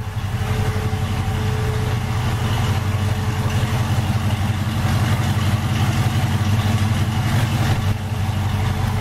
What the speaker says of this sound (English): It's not too loud, but it has a nice little rumble.